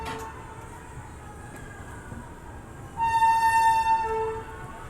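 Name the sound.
Patna-Howrah Express train at Patna Sahib railway station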